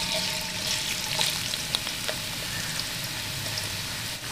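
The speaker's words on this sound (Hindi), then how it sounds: "अदरक को थोड़ा सा हिलाएंगे" Julienned ginger frying in hot ghee for a chicken karahi, a steady close sizzle broken by soft clicks and scrapes of stirring, with no voices.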